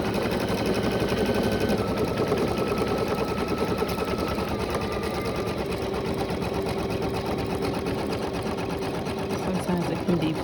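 An embroidery machine stitches out a unicorn design with lettering, running as a steady, continuous rapid mechanical whir and needle chatter close by throughout.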